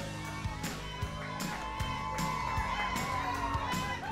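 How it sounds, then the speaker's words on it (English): A crowd at the Canada Winter Games cheers and shouts steadily throughout, a dense mix of voices with thumping beats underneath. "Maybe get a cheer from the crowd."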